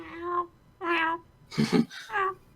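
A person imitates a cat, giving four separate voiced meows of rising and falling pitch, close and fairly loud, during a tabletop Dungeons & Dragons game session.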